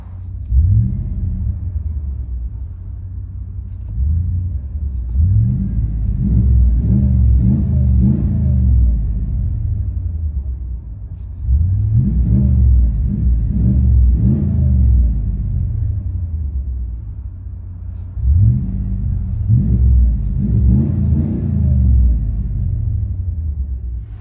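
2016 RAM 2500 HD with a 6.4L HEMI V8 and a Vibrant resonator, heard from inside the cab: deep exhaust rumble swelling through three repeated revs with idle dips between, steady and close, no talking.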